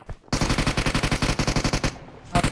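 Automatic gunfire in the mobile battle-royale game PUBG Mobile, a loud, close, rapid rattling burst of about a dozen shots, a brief gap, then firing resumes at the end.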